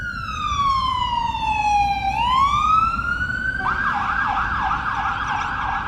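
A loud wailing police car siren sweeps down and up, then switches to a rapid yelp pattern, with faint road traffic underneath, in Liverpool.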